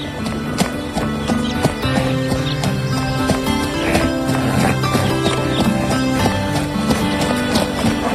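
A horse trots steadily at close range, its hooves beating a quick even clip-clop over continuous background music, with no talking.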